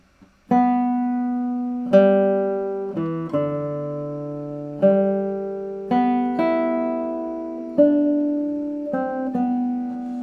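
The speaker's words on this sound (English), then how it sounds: "This is what the melody sounds like." A slow solo melody from a study by Leonard Schulz, played alone as sustained, clean tones, each note starting with a soft attack and ringing steadily into the next, with no voices.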